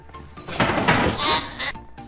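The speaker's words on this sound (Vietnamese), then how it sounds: "ông bảo người mang con cừu đến, buộc nó vào lồng sắt" A sheep tied in an iron cage bleats in a scene from the film Life of Pi: one loud, wavering, drawn-out bleat, close and alone.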